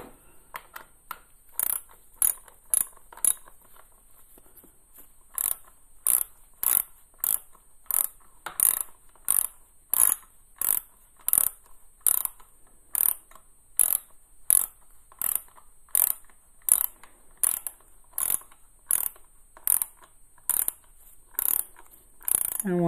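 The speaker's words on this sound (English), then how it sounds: "get the ratchet on it." A hand ratchet clicks steadily while tightening bolts on a CFMOTO motorcycle during a gear indicator repair: a long, even run of sharp close-up clicks in regular strokes, with brief pauses between strokes.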